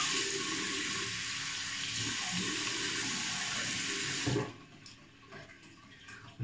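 Tap water runs steadily into a sink for a face wash before shaving with mentholated soap, a loud, close, continuous rush that cuts off sharply near the end, leaving a quieter trickle.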